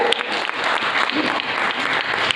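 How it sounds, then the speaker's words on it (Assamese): Steady, dense applause from an audience at a launch event for a poetry book, many hands clapping together at close range, with no pauses and no speech. "তালি দিয়ক সকলোৱে।"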